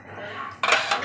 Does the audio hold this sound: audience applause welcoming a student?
no